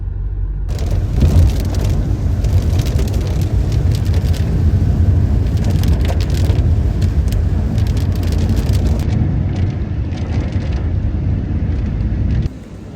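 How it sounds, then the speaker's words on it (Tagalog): Steady rain pouring down, a dense continuous hiss of drops on surfaces that fills nearly the whole stretch before easing off abruptly at the end, with no talking. "Umuulan po."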